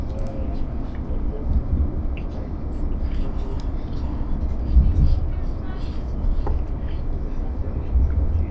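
Steady low rumble and rattle inside an Irish Rail passenger train running from Cork to Dublin, a continuous carriage drone with occasional clunks, heard beneath someone talking.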